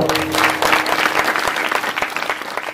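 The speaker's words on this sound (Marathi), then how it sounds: "जोरदार टाळ्या वाजवा." A kirtan audience claps hard and fast, a dense, loud burst of applause that holds steady for a few seconds with faint crowd murmur beneath.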